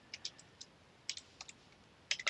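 Quiet computer keyboard typing, a few short bursts of crisp key clicks with brief pauses between them, close and faint, with no talking.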